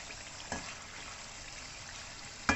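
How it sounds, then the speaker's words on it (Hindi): Chicken frying with green chillies in a karahi for a Charsi chicken karahi, a soft steady sizzle with two brief louder crackles, quiet and close, with no voices. "हरी मिर्चों के साथ चिकन को 2 से 3 मिनट के लिए भूनेंगे ताकि अच्छा सा फ्लेवर आ जाए हरी मिर्चों का"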